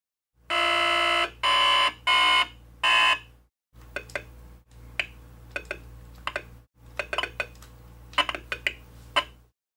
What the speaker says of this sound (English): we are still just hearing beeps and buzzes